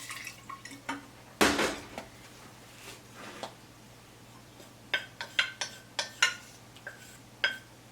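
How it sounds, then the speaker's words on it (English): Ginger beer liquid with ginger pieces dumped into a jar: a loud splashing pour near the start, then a run of separate drips and small clinks spaced through the rest, close by, with no talk. "I'm going to dump that into the jar."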